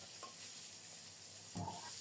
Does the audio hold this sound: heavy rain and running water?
no